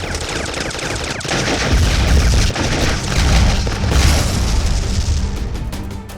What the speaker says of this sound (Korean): 미사일 발사!